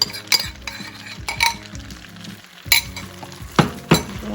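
Sauce hits a pan of cooked shrimp for garlic noodles and sizzles steadily while a utensil scrapes and stirs, with a few sharp clinks of metal against the pan.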